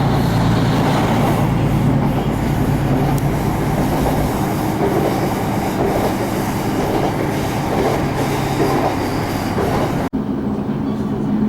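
Train pulling into Lochailort station on the West Highland Line, a steady loud rumble of wheels and carriage noise with faint clatter, continuing until an abrupt drop near the end.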